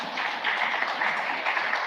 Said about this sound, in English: can we give a round of applause to our amazing panelists?